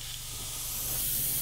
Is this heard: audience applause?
no